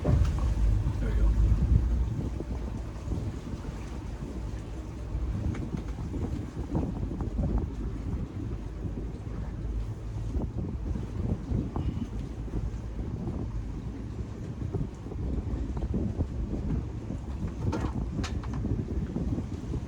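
Engine of a 1984 Chris-Craft Catalina 381 cabin cruiser running on the water, a steady low rumble under wind buffeting on the microphone, continuous for about twenty seconds.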